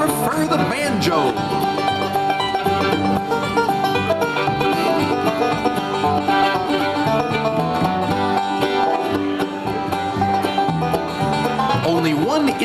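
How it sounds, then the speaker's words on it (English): A banjo plays a busy, continuous melody alongside other instruments in a lively, dense band mix that stays loud and steady throughout, with no voices over it. "That's right, that's a banjo."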